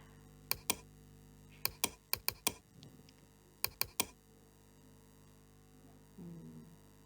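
Crisp computer keyboard clicks in short clusters, including a key-combination press, over a faint steady electrical hum in a quiet room.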